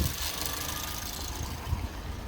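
Suzuki Swift engine idling while slightly cold, revs hunting up and down; a low, quiet mechanical hum with uneven surges, close by and without talk.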